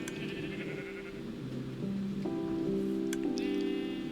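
Minecraft sheep bleat a few times over the game's background patter, the short wavering cries fairly close and clear and with no talk over them.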